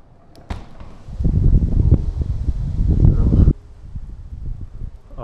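Strong wind gusts roar outside in Yozgat, Turkey, on a hot July day with trees bending, a loud buffeting rush swelling for a few seconds near the microphone before dropping back.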